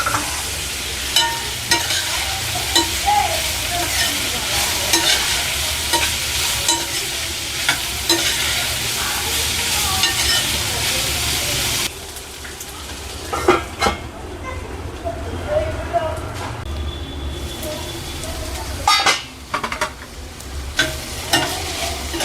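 Onions sizzle loudly in a pan for samosa filling, frying to golden brown while a utensil stirs and scrapes in an irregular rhythm, with the sizzle dropping away partway through and brief speech alongside.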